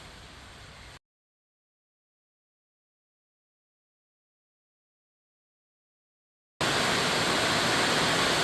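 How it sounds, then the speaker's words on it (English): Heavy rain pours down outside a shed, a dense steady hiss of falling water heard briefly at the start, cut to silence for several seconds, then returning louder and closer until the end. "It's been raining like this for a couple of hours now"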